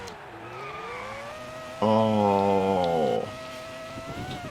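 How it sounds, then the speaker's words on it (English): A racing car locks its tyres under hard braking, a loud squeal of stacked harmonic tones lasting about a second and a half over steady engine drone, with a brief spoken exclamation. "He's braking hard. Alesi. Oh, that's a big lockup."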